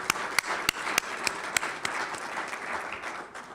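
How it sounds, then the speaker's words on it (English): An audience applauding veterans at a campus event, a dense sustained round of clapping at moderate distance with a few sharper individual claps standing out, slowly tapering. "So can we give our veterans a round of applause?"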